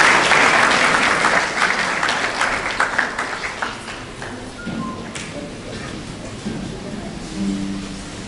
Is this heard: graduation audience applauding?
yes